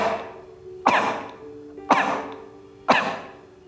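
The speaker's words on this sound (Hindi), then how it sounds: "आपने खांसने की वो प्रैक्टिस करनी है। जैसे हम खांसते हैं" A person gives three deliberate, forceful coughs about a second apart as a speech therapy breathing exercise, each a sharp burst that fades quickly, close and clear with no talking.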